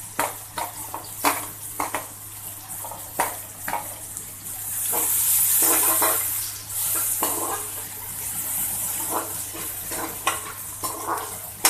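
Onions fry in oil in a pan with a continuous sizzle that swells loudly mid-way, while a spatula scrapes and taps the pan in frequent irregular strokes.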